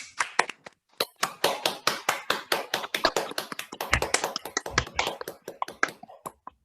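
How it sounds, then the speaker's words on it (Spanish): A small group claps for guests at the close of a psychoanalytic book fair session, with sharp, distinct hand claps in a quick, uneven rhythm, close and fairly loud, with no talking over them. "Eu quero pedir uma salva de palmas para os nossos convidados de hoje"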